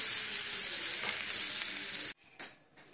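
Drumstick (moringa) leaves fry in a pan with a loud, dense, steady sizzle for about two seconds, then the sound cuts off abruptly to near quiet with a few faint clinks.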